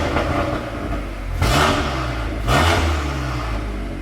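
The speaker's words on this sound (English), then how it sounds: "Put it in race mode to give it a slight blip. I know the engine's cold." Stage 2 VW Golf R Mk8 with a decat exhaust, engine still cold and set to race mode, idles with a steady rumble before two sharp, loud throttle blips, each swelling and then dropping back to idle.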